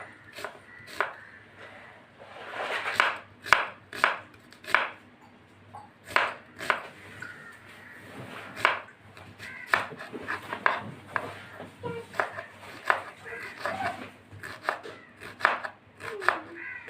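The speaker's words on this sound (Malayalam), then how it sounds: "ഒരു സവാള നന്നായിട്ട് ഒന്ന് ചോപ്പ് ചെയ്തെടുക്കാം" Onion being chopped with a knife on a board, a run of crisp, fairly close knife taps in uneven bursts, some quick clusters and some single strokes, alone with no talking.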